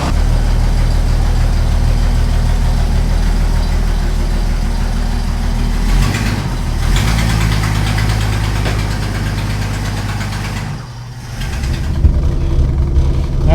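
A 1963 Ford Falcon Futura hardtop runs close by, its engine idling with a steady knocking rumble, briefly dipping and catching again before pulling off onto the road; no talk over it.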